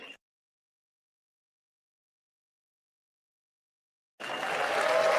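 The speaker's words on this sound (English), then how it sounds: "Can we get a round of applause for everybody here today?" An audience in the Royal Albert Hall at a Red Bull Wololo Age of Empires II event breaks into applause, the clapping swelling in suddenly after several seconds of silence and holding steady.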